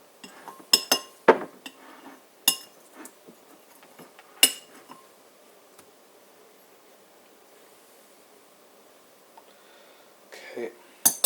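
Chicken salad scraped from a bowl onto pita bread, heard as scattered sharp clinks and scrapes of a utensil on the bowl, with long quiet gaps between.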